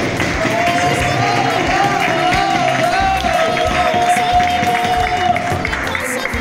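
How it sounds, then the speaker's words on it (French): A crowd at a community gathering applauds continuously, a dense steady patter of many hands with a sustained voice or tone running over it and a murmur of people. "Est-ce qu'on peut applaudir encore une fois?"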